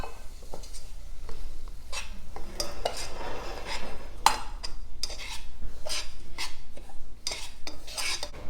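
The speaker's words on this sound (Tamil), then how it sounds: "ரவையை மிதமான சூட்டில் கொஞ்சம் லைட்டாக வறுத்து எடுத்தாச்சு" A spoon scrapes and stirs semolina roasting in oil in a pan, making continuous rasping, clinking strokes at a steady, close, moderate level.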